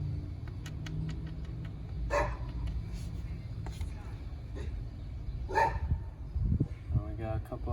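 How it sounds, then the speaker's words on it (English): Dogs barking nearby during a brake job, sharp intermittent barks and yips scattered across the stretch over a low workshop rumble, with a person talking now and then. "dogs barking, so that's alright."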